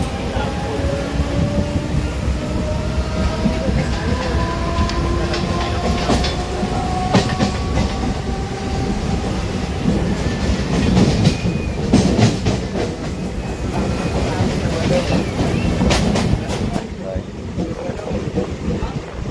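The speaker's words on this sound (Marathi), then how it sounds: "कुर्ला स्टेशनला पोहोचलोय का, घेऊन आता GTB नगरसाठी ट्रेन पकडतोय।" Mumbai local train running from Kurla station toward GTB Nagar, a continuous rumbling ride with rhythmic wheel clatter, rushing wind and occasional squealing tones, with some voices in the background.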